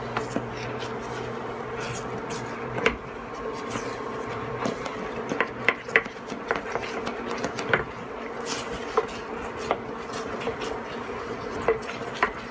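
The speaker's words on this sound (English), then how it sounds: "Always scrape the edges, bottom edges of your pan." A spoon scrapes and stirs a flour roux in a pan over medium heat, making a steady run of irregular clicks and taps over a constant background hum.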